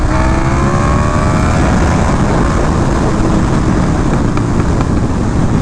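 A KTM 1290 Super Duke R motorcycle pulls hard in third gear, its engine a loud, continuous roar with rising tones and heavy wind noise throughout, no talking over it.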